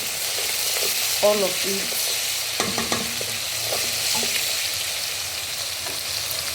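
Onion frying in a pan for Nigerian vegetable soup, a steady broad sizzle with occasional stirring clatter, heard under someone talking.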